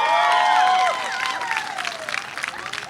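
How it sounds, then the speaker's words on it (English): An audience claps and cheers, loud at first and then settling into steadier, thinner applause with scattered whoops while voices carry through the crowd. "give Michelle a big round of applause"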